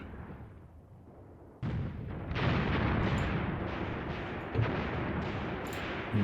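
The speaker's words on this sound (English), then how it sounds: "So I'm going to call in some more fire across here." Artillery fire in the war game Graviteam Tactics: Mius Front makes a dense, rumbling barrage, a sharp blast jumping in after a quieter start, then continuous heavy roaring explosions with occasional louder hits.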